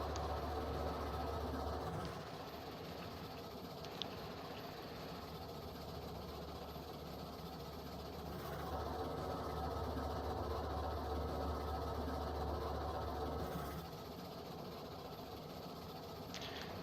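A long train rolling along in the RailRoads Online video game, a steady low rumble and drone that carries on for a long stretch, with faint clanks and shifts in level.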